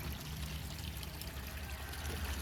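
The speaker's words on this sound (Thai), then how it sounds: "น้ำไหลตลอดเวลานะครับ" Water runs steadily through foam beds of hydroponic lettuce, a continuous low pouring and trickling wash that holds an even level throughout.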